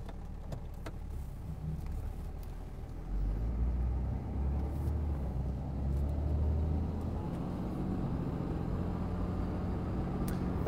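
A diesel truck engine runs on a dyno during a timing test, a loud, deep rumble that climbs and holds steady near 2,000 to 2,900 RPM, heard close with no talk over it.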